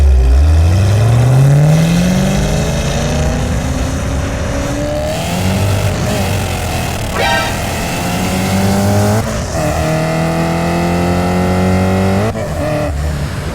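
At a drag race, a car's engine revs and accelerates hard, pitch sweeping upward in long pulls with gear changes, loud and close, with brief cracks and a steady roaring drone between.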